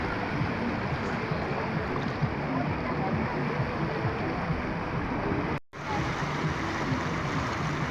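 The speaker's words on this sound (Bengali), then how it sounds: "জলের কি স্রোত!" A strong river current rushing past, a loud, dense, steady roar of water close by with a brief dropout near the end, no talk over it.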